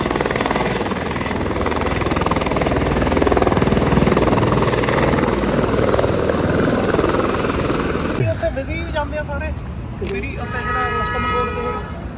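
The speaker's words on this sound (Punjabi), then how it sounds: "ਹੈਲੀਕਾਪਟਰ ਆ ਗਿਆ ਸਾਨੂੰ ਲੈਣ" A helicopter's loud, steady rotor roar fills the air up close in New Zealand, then cuts off abruptly into quieter surroundings with faint tones and voices.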